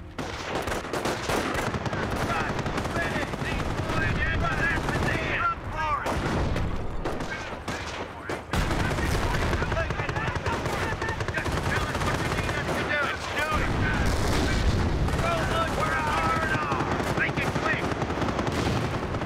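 Dense, continuous machine gun bursts and heavy artillery booms from the Company of Heroes World War II strategy game, loud and sustained throughout, with a player's voice talking over the battle.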